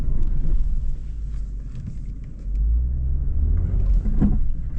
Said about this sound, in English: That right wheel's flashing, which probably means it's spinning. I'm just digging holes now